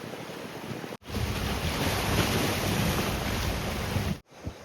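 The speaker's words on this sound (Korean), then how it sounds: "상쾌한 바다 내음이 있는 파도 소리를 들으면서 데크 산책로를 걸어갑니다." Sea waves wash against the rocky East Sea shore along the Oeongchi coastal walkway in Sokcho, a continuous close roar of surf with wind, broken by two brief cuts.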